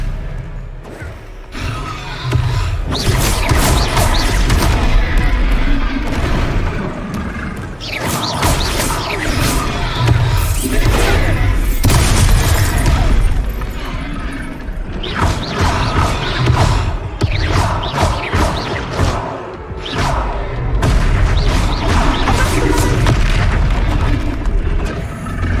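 Spell explosions from the Hogwarts Legacy video game boom and crash almost without pause, a dense, loud barrage of magical blasts and bursts that runs throughout with only brief dips.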